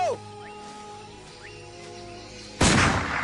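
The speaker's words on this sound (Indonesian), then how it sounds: "Ross dan Santiago melihat ledakan itu." A sudden loud explosion erupts in a crime thriller film, a broad burst that cuts abruptly into a quieter scene of faint whistling tones and lingers as a rumbling roar.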